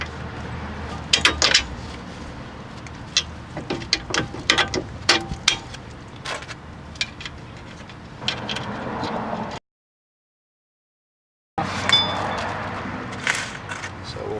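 A ratchet tightens a bolt on a 2-piston big brake caliper kit being installed on a third-generation car, giving rapid clicking bursts and metallic clinks at close range, then a brief silence and more clicking.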